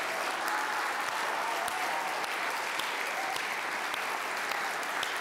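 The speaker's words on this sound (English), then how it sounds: "if we would stand and applaud King Jesus for his work and faithfulness" Church congregation applauding, a dense, steady wash of clapping from many hands that fills the room evenly throughout, moderately loud with no single voice standing out.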